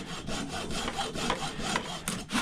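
Hacksaw cutting scrap metal such as copper, brass or aluminum on a workbench, a close, loud run of rhythmic back-and-forth rasping strokes heard alone.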